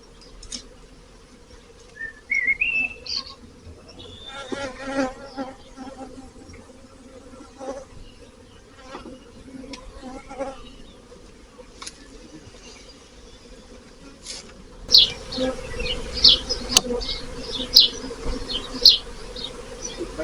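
Honey bees buzz close by around an open hive, their drones rising and falling as they fly around, with some rustling and a burst of denser buzzing near the end.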